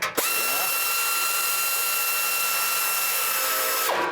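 A ratchet wrench tightens a clamp bolt on a bracket in a garage, giving a steady rapid clicking that runs for about four seconds close to the listener, with no talking.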